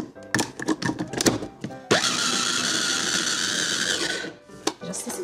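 A food processor whirs loudly and steadily for about two and a half seconds while chicken meatball mix with breadcrumbs and green onion is blended, with clattering and handling sounds before and after the motor runs.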